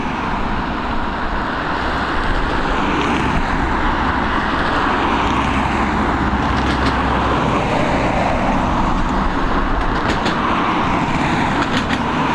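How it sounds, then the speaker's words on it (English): Boeing 737 departing Dublin Airport, a loud, continuous broadband jet roar with a deep rumble that swells slightly and stays steady throughout, heard from outdoors with no talking. "we've got this Boeing 737 on departure"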